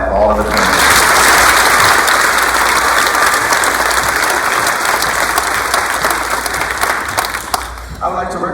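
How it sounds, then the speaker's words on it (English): Sustained applause from a large crowd at a youth challenge program graduation ceremony, honoring the cadets' parents: dense, loud clapping that holds steady for several seconds before tapering slightly at the end. "One more hand clap for all of the parents."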